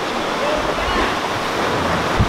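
Sea water sloshing and surging inside a coastal cave in Portugal, a continuous loud wash of surf with wind buffeting the microphone. A brief low thump comes near the end.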